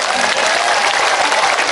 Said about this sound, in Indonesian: Tepuk tangan untuk Madiun.